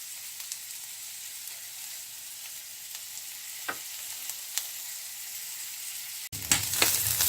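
Green chillies and chopped curry leaves sauté in a pan with a constant soft sizzle and a few light stirring ticks, then a sudden louder crackling burst near the end.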